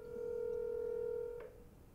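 A telephone call is being placed: a steady tone holds for over a second, then cuts off with a brief blip, followed by quiet line hiss.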